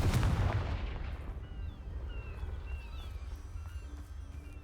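The Confringo blasting spell goes off in Hogwarts Legacy with a loud booming burst at the start that decays into a rumbling tail, followed by faint ambient game sounds.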